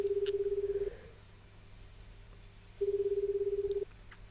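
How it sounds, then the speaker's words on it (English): Telephone ringing tone in a visual novel game, heard on a monitoring speaker: two steady electronic ring bursts about a second long each, separated by a pause, over faint background hum. "There is a sound of ringtones."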